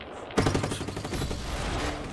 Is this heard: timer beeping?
no